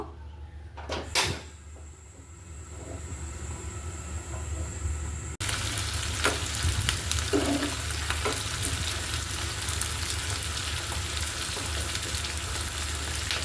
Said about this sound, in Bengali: ব্রাউন কালার করে কিন্তু আমি একদম ফ্রাই করে নিব।